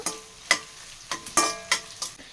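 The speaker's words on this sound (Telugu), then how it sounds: "కొద్దిగా వేగాక పచ్చిమిర్చి కూడా వేసుకున్నా. అది కూడా కొద్దిగా వేగిన తర్వాత" Green chillies fry in hot oil, several sharp bursts of crackle and spatter rising and fading in quick succession, loud and close with no talk.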